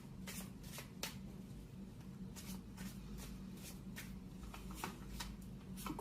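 Tarot cards riffled and shuffled by hand in a steady run of soft papery bursts, close and continuous, over a low constant background hum.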